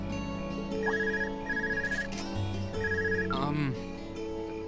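A telephone rings in the video game Trails of Cold Steel, repeating in short bursts over game music with a low background hum.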